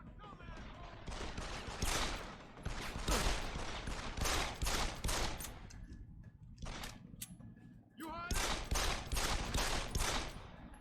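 Rapid bursts of gunfire ring out in Deus Ex: Human Revolution, loud, repeated volleys of sharp shots with a short lull before another flurry, with voices now and then.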